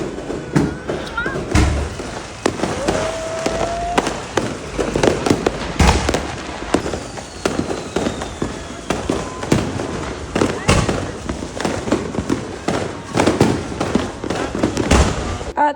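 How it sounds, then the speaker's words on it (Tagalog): New Year fireworks and firecrackers explode all around in a rapid, loud barrage of near and distant bangs and crackles, with whistling rockets and excited voices mixed in throughout. "Nanonood kami ng mga nagpapa-fireworks."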